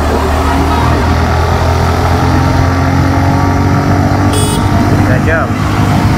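TVS Raider 125 BS6 motorcycle engine running during a ride, a loud continuous droning hum with wind rush and a steady pitch, while someone talks over it.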